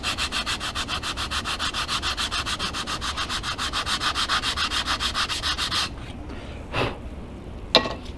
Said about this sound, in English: then I'm going to use my sanding block like this